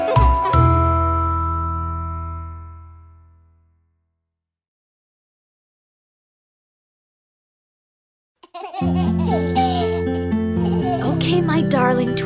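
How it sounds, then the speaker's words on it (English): A bell-like chime rings at the start of a children's lullaby and fades out over a few seconds, followed by silence and then the gentle music resuming. "Bells are ringing, morning bells are ringing, ding, ding, dong, ding, ding, dong."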